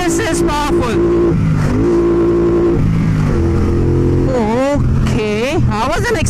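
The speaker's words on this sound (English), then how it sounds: "If you're thinking about the power, well, let's test it out." A 2017 Triumph Bonneville Bobber 1200cc twin motorcycle accelerating hard on a highway, its loud engine rising and falling in pitch through repeated revs and gear changes, close and continuous, with a voice partly audible over it.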